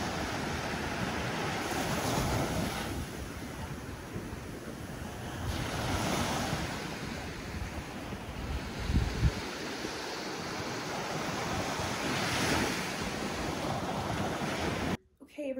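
Ocean surf breaks steadily on a beach with continuous wash and rumble, heavy wind buffeting the microphone throughout, near and moderately loud, no voices.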